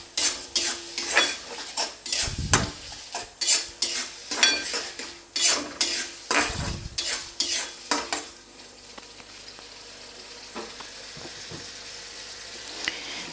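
Aar fish kalia cooking with sour yogurt in a pan, a spoon scraping and stirring in quick rhythmic strokes for several seconds over a frying sizzle, then the sizzle continues alone and quieter.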